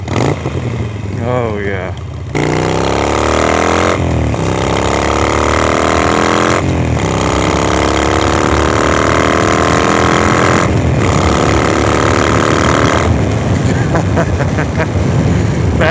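A Harley-Davidson Sportster with a Vance & Hines Mini Grenades exhaust rumbles loud and close while riding at about 40 mph, its engine note rising and falling through several gear shifts over about 16 seconds, with a rider's brief voice over it.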